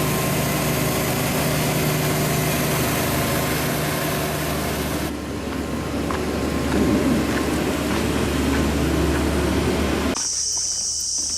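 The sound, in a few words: propeller boat engine idling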